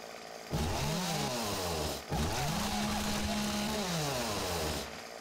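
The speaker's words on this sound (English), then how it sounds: "Oh, I love the chainsaw." Chainsaw in the video game 7 Days to Die, revving up loudly and holding a steady buzzing whine, briefly dropping off around the middle before revving again, close and alone without talk.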